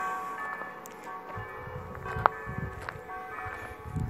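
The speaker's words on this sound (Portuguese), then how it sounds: "O sino tá chamando as pessoas pra ir." A church bell rings to call people to mass, heard at a distance with a sharp clang partway through, over outdoor background noise and faint footsteps.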